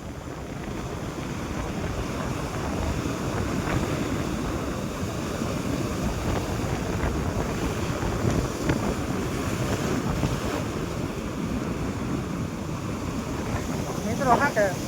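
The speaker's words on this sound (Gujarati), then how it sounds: "વિડીયોમાં લાગે છે કે ઓછું પાણી ઉડે, પણ રિયલમાં જોતા હોય ને તો આપણને બીક લાગવા મળે એટલું પાણી ઉડે." Water splashing and waves churning near the Chamunda temple at Uncha Kotda, a steady loud rush with wind buffeting the microphone throughout.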